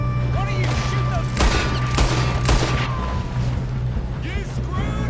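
Video game gunfire in a loud firefight, with several bursts of rattling shots over a steady hum and background game noise, while people talk over the action.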